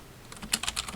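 Short burst of clicking computer-keyboard keys as a command is typed while setting up a Raspberry Pi, several quick close taps in an uneven rhythm with no talking.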